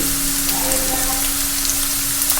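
Onion sautéing in a pan for a veg pizza topping: a steady, close sizzle and crackle of frying with faint scraping, alone throughout.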